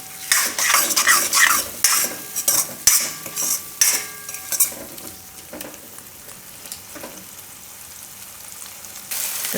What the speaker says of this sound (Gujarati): વચ્ચે વચ્ચે હલાવતા રહેવું.